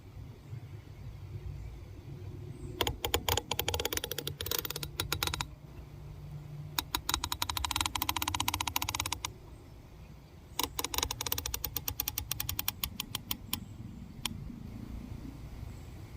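Turret adjustment on a Hi-Lux Pentalux Tac VF G2 4-20x50 scope produces rapid runs of crisp, close clicks in three long bursts over a low background rumble, with brief pauses between the runs.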